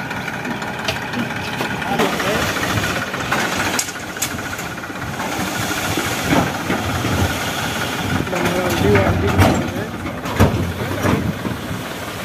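A Massey Ferguson tractor's engine labors hard and loud while stuck, revving and straining steadily for several seconds, with voices talking over the rumble.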